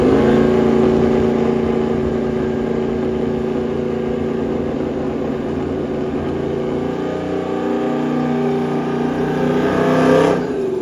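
A Dodge Challenger Hellcat project car with a Turbo 400 transmission swap runs loud and steady during a trans-brake launch test, a dense engine roar and drone that holds for about ten seconds before easing slightly near the end.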